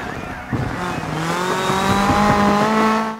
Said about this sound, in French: Je crois qu'on a une crevaison à l'arrière droit après le choc que j'ai eu. On entend le bruit